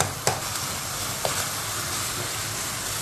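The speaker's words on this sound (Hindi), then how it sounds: "इसको भूनेंगे लहसुन अदरक के पेस्ट में, बड़े अच्छे से इसकी भुनाई होगी" Steady loud sizzling of food frying in garlic-ginger paste, with a couple of sharp spatula knocks against the pan near the start and continuous stirring underneath, no voices.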